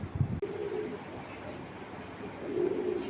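Netherlands pigeons in a loft give low cooing calls, one near the start and another toward the end, over steady background noise.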